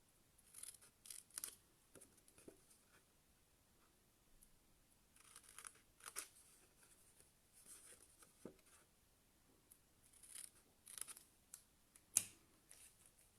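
Scissors or a blade cut through craft material for a mosaic box, giving quiet, intermittent snips and crunchy cuts that come in irregular bursts, close but faint.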